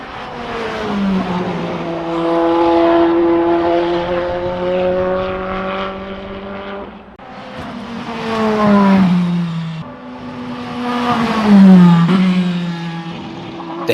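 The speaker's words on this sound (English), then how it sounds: "It sounds very unique and much like a modern-day BMW V8." A BMW LMDh prototype race car with a high-revving V8 screams as it climbs through the gears toward 8,200 rpm, each rising wail cut by a sharp shift, then fades and returns loud and near.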